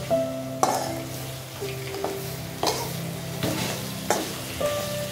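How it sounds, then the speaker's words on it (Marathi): Food sautéed in a pan for a village-style Marathi crab curry, with a steady sizzle broken by several sharp metallic scrapes and clinks of a spoon stirring against the pan, close up and without speech. "सो मी ह्याला आता परतून घेते"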